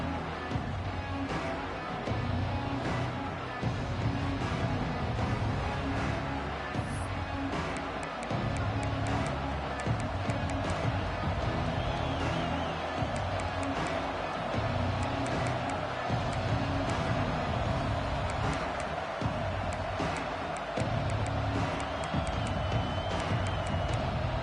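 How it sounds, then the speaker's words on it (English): A stadium crowd at a UCLA vs Oregon college football game makes a steady, loud roar of cheering and noise that holds evenly all the way through, with faint voices mixed in. "This crowd ready to make its presence known"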